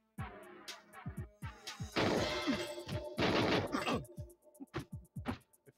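Gunfire from the video game Super Mario Goldeneye 64: bursts of rapid shots and sharp impact crashes, with dense volleys around the middle and scattered single shots before and after, loud and close.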